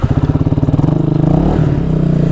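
A cold Honda FTR 223 motorcycle engine fires up with a pulsing, uneven idle, then is blipped into a couple of short revs that swell and settle, loud and close with no talking.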